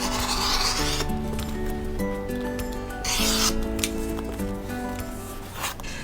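Steady rasping, scraping strokes of a rotary cutter trimming the final two sides of a fabric mini quilt, close and continuous with a tonal hum underneath.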